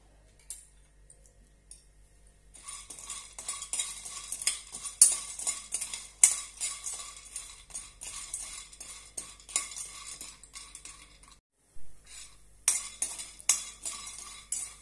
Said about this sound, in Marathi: त्यामध्ये आपण हे सांडगे घालून छानपैकी भाजून घेऊया